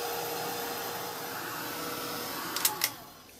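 An electric dryer blows steadily over a mixed media art journal page, a close, even whirring hum that cuts off near the end after a couple of small clicks.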